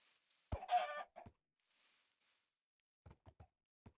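Chickens cluck in the video game Minecraft: a short, clear burst of clucking, then a few faint clicks and small sounds, with no talk.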